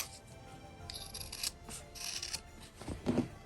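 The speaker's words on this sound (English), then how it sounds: "go ahead and cut the extra" Scissors cut away excess fabric while sewing a small holiday gift, making close, quiet snipping and rubbing bursts in short irregular runs with no talking.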